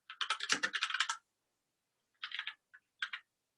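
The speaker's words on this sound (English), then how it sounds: "Sorry, are you typing?" Typing on a computer keyboard: a quick burst of clacking keystrokes for about a second, then two short later flurries of taps after a pause, close and moderately loud with no talk.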